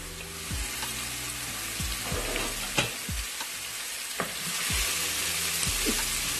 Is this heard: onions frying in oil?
yes